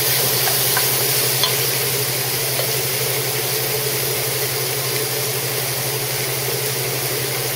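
Vegetables wilting in a pan over medium heat give a steady, loud sizzle with faint stirring scrapes, continuous and close with no talking.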